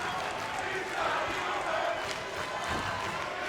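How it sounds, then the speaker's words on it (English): A packed wrestling crowd at a Ring of Honor match chanting in unison, a loud, continuous wash of voices with a rhythmic rise and swell, dense and steady throughout. "This crowd chanting, he's not human"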